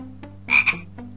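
A frog in the Simon the Sorcerer game croaks twice in quick succession, a short, close, raspy call with faint softer clicks just before and after.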